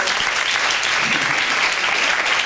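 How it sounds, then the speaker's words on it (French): A school speaking-contest audience applauds loudly and steadily, a dense continuous wash of clapping filling the hall for the whole stretch with no voices rising above it. "applaudissez-le bien fort pour moi, s'il vous plaît"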